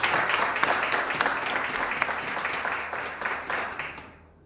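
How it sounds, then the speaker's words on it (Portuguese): A church congregation claps steadily in applause after a prayer, a dense, sustained round of many hands that fades out at the end. "Uma salva de palmas para Jesus, amém."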